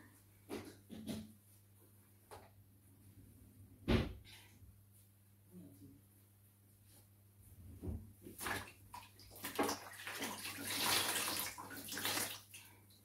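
Water splashes and pours intermittently close by as a newborn baby is bathed in hot water during a traditional African bath, with scattered handling knocks and a burst of heavier splashing toward the end.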